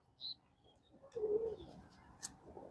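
A soft, low coo from a young pigeon close by, brief and gentle, with a faint chirp earlier and quiet surroundings.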